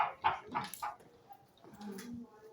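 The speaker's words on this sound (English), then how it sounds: "That's my dog right there." A dog gives a few short barks close by in quick succession, then quieter whimpering noises follow, with no talking over it.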